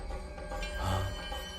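Phone ringing faintly in a Hindi-dubbed movie scene, a short burst of electronic ring over a soft background hum, no voices.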